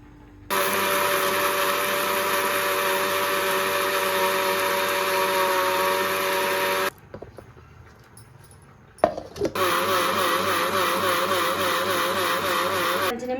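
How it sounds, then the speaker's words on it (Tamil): A mixer grinder whirs loudly and steadily, grinding soaked multigrain dosa batter. It stops for about two seconds, then restarts with a wavering, labouring drone. "இதை நம்ம மிக்சியில் கொஞ்சம் கொஞ்சமாக போட்டு அரைச்சிக்கலாம்."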